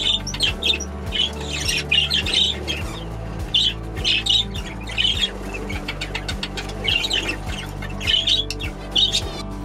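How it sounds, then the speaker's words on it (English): Baby budgie chicks in a bird room make repeated shrill squawking and chirping calls in short bursts over a steady mechanical hum, close by and fairly loud. "let's take a look now at the baby budgies, the chicks that I've got in the bird room"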